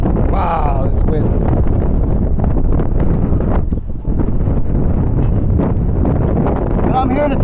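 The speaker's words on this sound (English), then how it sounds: "Wow, this wind." Strong wind buffets an outdoor microphone on a windy street in Hartford, Connecticut, as a constant loud roar with brief lulls that never fully stops.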